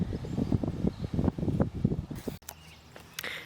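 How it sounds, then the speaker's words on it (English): A strong outdoor gust of wind buffets the microphone with a close, rumbling roar for a couple of seconds, then drops away abruptly into quieter background noise. "Ooh, that's a big gust of wind."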